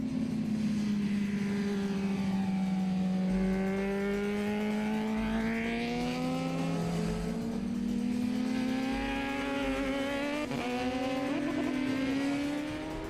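A three-year-old BMW R11S motorcycle racing on a track, its engine whining loud and close as the pitch climbs and falls through repeated shifts and throttle changes over several seconds.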